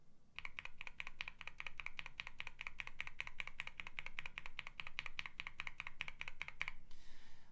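Rapid, even typing on lubed and filmed Cherry MX Black Hyperglide linear switches in a QK65 R2 keyboard, a dense run of soft close keystrokes that stops near the end.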